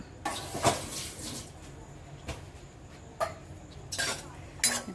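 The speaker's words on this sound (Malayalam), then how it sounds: "ഈ തേങ്ങ ഒന്ന് വറ്റി വരുന്നതിന് ഇച്ചിരി ടൈം എടുക്കും നമുക്ക് ഇളക്കിക്കൊണ്ടിരിക്കും" A spoon stirring grated coconut with jaggery in a pan, producing scattered clinks and scrapes of utensil on metal, close and moderate, with quiet pauses between strokes.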